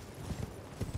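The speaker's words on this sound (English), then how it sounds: "It's much faster and more efficient to just run past these guys on a horse than it is to sneak past them slowly." A horse gallops in Elden Ring, its hooves beating a quick, uneven run of muffled thuds, fairly close but not loud.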